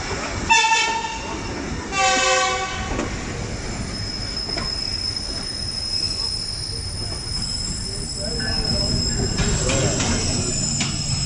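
The 12 Down Hazara Express pulls into Samasata railway station in Pakistan, its horn sounding loud twice at the start before a long rumble of rolling wheels and faint squeals fills the platform.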